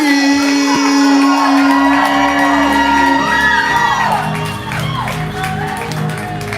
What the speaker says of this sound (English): So we clapping, we building energy, we making all the noise. Give it up for Ryan B.